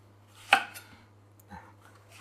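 A single crisp knife chop through an eggplant on a cutting board, followed by a softer second cut a second later, over a quiet low hum.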